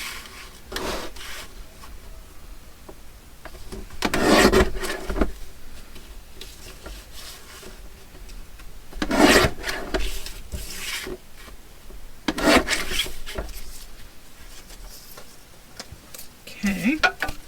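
Collage board being cut into pieces gives rough, close rasping bursts at irregular intervals over a faint, quiet background.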